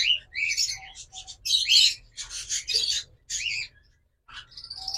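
A pair of red-eyed Lutino Fischer's lovebirds chirps in sharp, high bursts with short pauses, close and loud, with no voices over them.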